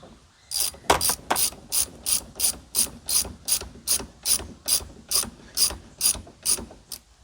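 A ratchet Torx driver clicks in rapid bursts while tightening a seat bolt on a 1997 Ford Explorer seat, about a dozen evenly spaced, close, sharp ratcheting strokes with no voices.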